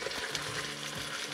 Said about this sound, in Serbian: U dubljoj većoj šerpi dobro zagrijte ulje i dodajte prvo luk. Luk pržite dok ne postane staklast